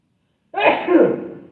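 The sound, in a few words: sneeze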